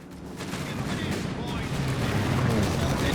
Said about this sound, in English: Oh, bombing strike again there.